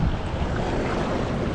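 Strong wind blowing on a beach, roaring steadily and loudly at the microphone as a dense rush of noise, with no voices.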